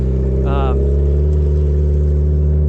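A $60,000 go-kart runs on a rally course laid out on a frozen lake with studded tires, its mid-pitched engine droning steadily and close, with a brief higher whine early and a voice talking over it.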